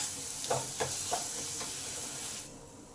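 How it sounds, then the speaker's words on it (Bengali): Masala spices frying in oil in a pan over low heat, a steady broadband sizzle with a few soft stirring scrapes near the start, fading slightly toward the end. "মশলাগুলো আমার কষা হয়ে এসেছে, তেল ছেড়ে যাচ্ছে মশলা থেকে।"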